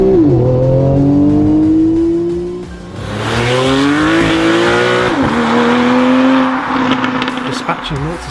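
A Porsche 911 991.1 GTS, 430 brake horsepower, accelerates hard with its engine note climbing loudly through the gears, a brief drop at each shift, close and dominant.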